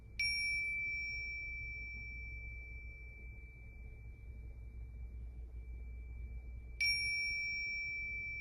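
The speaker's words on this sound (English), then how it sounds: "I've got my tiny little bell to ring today, travel bell." A tiny travel bell is struck twice, several seconds apart. Each bright, clear ding rings out alone over a low hum and fades in a long, slowly decaying tone.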